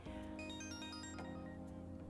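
A phone rings in Persona 5 Royal: a quiet electronic melody of bright ringtone tones plays over a soft, steady background hum. No one speaks.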